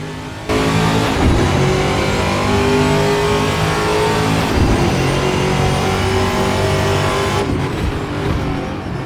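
A VRC TA2 Trans Am race car engine in a sim racing game revs loud and close, a harsh, raspy V8-style roar that climbs and drops through gear changes, with brief shifts breaking the steady drone and no voices.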